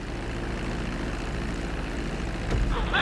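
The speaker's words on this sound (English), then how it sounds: "Now let's get the plane off the runway." A propeller airplane taxiing on a runway in the video game GTA 5, a steady loud engine drone and rumble that swells slightly near the end, with no voices.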